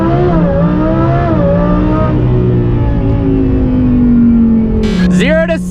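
An 875 hp Lamborghini Huracan Performante launches from a standstill to 60 mph on cold tires, its engine roaring loud and steady with rising, stepping pitch through quick gear changes, ending in a sharp shift and wail.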